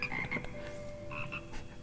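Frogs croak in a chorus inside a Hogwarts Legacy music classroom, with repeated short throaty calls overlapping over a steady tonal hum at moderate volume, and no voices.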